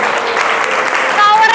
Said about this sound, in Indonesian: Tepuk tangan buat Farhan.